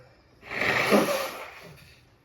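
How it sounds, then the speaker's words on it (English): A single forceful nose blow, a broad breathy honk lasting about a second, close and fairly loud, trailing off into quiet. "I got to blow my nose."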